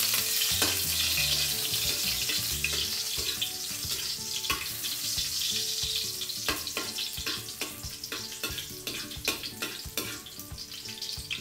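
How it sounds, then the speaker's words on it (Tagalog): Garlic sautéing in hot oil for squid adobo makes a continuous close bubbling sizzle with frequent crackles and scraping stirs. "Gisa muna natin yung bawang."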